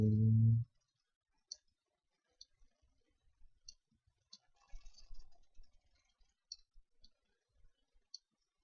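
Sparse, sharp computer mouse clicks during Mudbox sculpting on a rock model, single and in small clusters, close and fairly quiet, after a brief burst of voice at the start.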